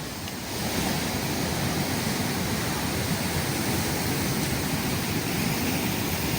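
Rough sea surges onto a coastal road at Pozhiyoor, Thiruvananthapuram, during a sea incursion, a steady, loud, broad roar of crashing surf and rushing water that continues without a break.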